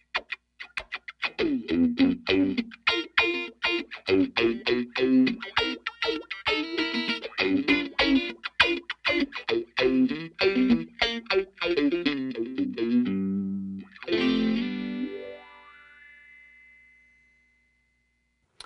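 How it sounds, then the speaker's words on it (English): An instrument line through a Q-Tron Plus envelope filter inverted in high-pass mode, with a sweeping, vowel-like filtered tone over rapid notes, ending in a long fading swell. "The filter's going down instead of up, so it's inverted. We've switched to a high-pass filter."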